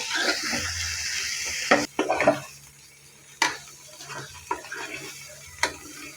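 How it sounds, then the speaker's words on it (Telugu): A spoon stirs cauliflower egg curry in a pan with soft scraping and a few sharp metallic clinks against the pan, under a low continuous sizzle. "బాగా కలుపుకోవాలి ఫ్రెండ్స్ కర్రీ. బాగా తిప్పుకోవాలి"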